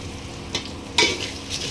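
Onions with whole spices such as cinnamon leaf and cloves fry in a pan, a soft steady sizzle broken by two stirring scrapes, the second louder and followed by a brighter burst of frying.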